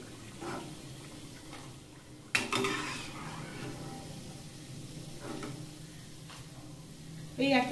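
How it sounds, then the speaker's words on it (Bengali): Crispy savory nimki fry in hot oil with a low, steady sizzle, broken by a few sharp utensil clanks and scrapes against the pan. "এই একই তেলে আমি বাকি নিমকিগুলো ভেজে নেব।"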